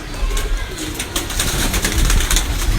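Teddy pigeons at a breeder's loft, low throaty cooing close by amid a busy background of shuffling, fluttering and handling noise throughout.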